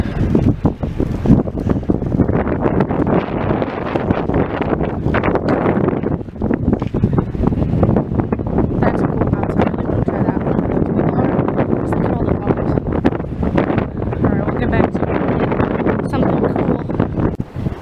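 Strong wind buffets the microphone throughout at an abandoned movie set in Massachusetts, a constant loud roaring rumble with gusty surges and no break.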